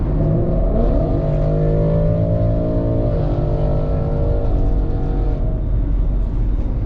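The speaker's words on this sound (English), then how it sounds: "That Mustang GT has been downshifting, upshifting, downshifting, upshifting gears for the last 10 minutes." A Ford Mustang GT nearby on the freeway holds a loud, continuous engine drone with rising and falling pitch as it revs and shifts gears, heard alone without talk.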